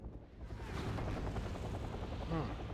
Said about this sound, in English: we see a helicopter that's trying to go for a flank